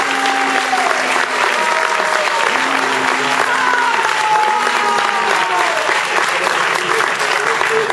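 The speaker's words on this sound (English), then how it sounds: "If we can have less cheering and less booing, we can hear more from Governor Romney." Political forum crowd at the Boston Public Library's Ford Hall Forum, steady loud applause and cheering with whistles and scattered booing woven in, sustained throughout without a break.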